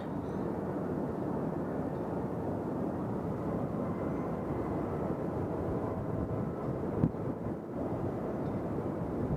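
A Southwest airliner taking off at Nashville International Airport, a broad, steady low roar of jet engines heard from a distance, sustained without a break and lightly buffeted by wind.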